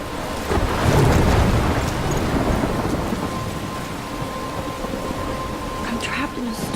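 A storm in Life Is Strange, steady roaring rain and wind with a low rumble of thunder swelling early on, loud and continuous throughout.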